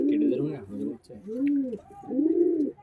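A Pakistani high flying pigeon, a restless bird being held in the hand, gives three deep, rounded coos in a row, close and clear, each rising and falling with short pauses between.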